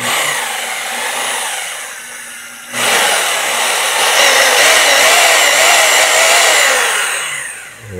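Rotary hammer drill running on a repair bench after its loose terminal was tightened, a loud steady motor whine that dips briefly and then surges back up and holds.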